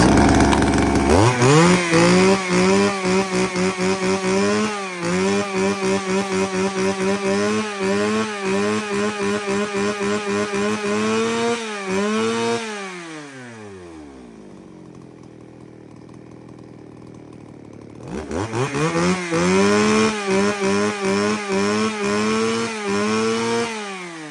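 A chainsaw engine runs loudly up close, revving in pulsing bursts, briefly dropping to idle before roaring back up.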